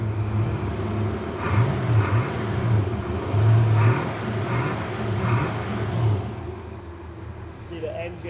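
A 1963 Ford Falcon restomod with a 302 V8 is revved several times at close range. Each blip is short and throaty, and the engine settles back toward idle between them.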